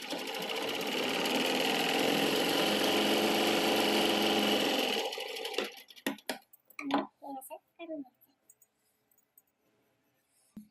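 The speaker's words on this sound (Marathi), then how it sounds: "डबल शिलाई" A sewing machine runs steadily for about five seconds while double-stitching a blouse, then stops, followed by scattered clicks and handling noises from the fabric and machine.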